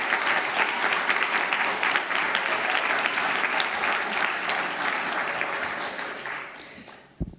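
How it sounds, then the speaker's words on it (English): A large crowd at a city council meeting applauds steadily for about seven seconds, then the clapping thins and fades out, with a final sharp clap or knock at the end. "Let's please give another round of applause for Emerson."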